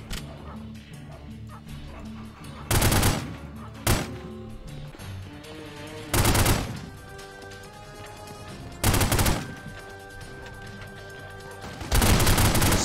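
Heavy gunfire in The Godfather video game, loud bursts of shots erupting in short blasts about every two to three seconds, separated by quieter stretches of game sound and occasional talk.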